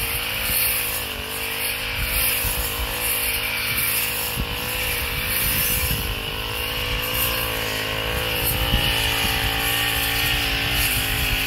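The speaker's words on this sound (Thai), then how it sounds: "เป็นครับตัดหญ้าหัวคันนาก็ใช้ได้ดีเลยนะครับ" A Makita flexible-shaft brush cutter, nearly ten years old, cutting grass on a paddy bund: a steady, loud two-stroke engine drone with a high whine, running continuously up close with no talk.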